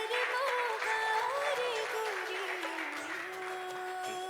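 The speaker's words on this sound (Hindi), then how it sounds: "जोरदार तालियां योहान भैया के लिए।" An audience at a Shree Ram Leela stage event claps for a child called up on stage, steady applause running throughout beneath music-like tonal sounds and a voice.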